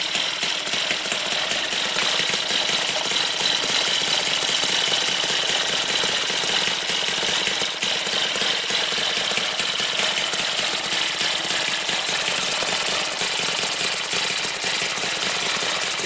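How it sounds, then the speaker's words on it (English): Miniature Harley-Davidson V-twin Panhead model engine running straight out of the box on 25:1 oil mix, idling with a rapid, buzzy, steady mechanical chatter, loud and close throughout with no voices. "Look at that idle. Like an old school flathead Harley."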